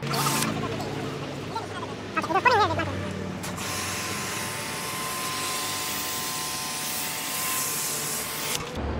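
A pressure washer sprays foam over an Ashok Leyland truck during a detailing wash, a steady broadband hiss running nearly throughout with a brief louder burst partway, while someone talks over it.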